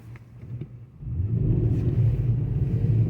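Infiniti FX50 accelerating on snow, starting with a few quiet clicks, then a deep engine rumble that swells around one second and holds steady and loud as the vehicle fishtails.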